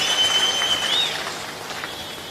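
A crowd at a political plenary rally in Bapatla claps in thanks, a broad wash of applause that is louder at first and eases off, with a thin steady whistle-like tone running through it.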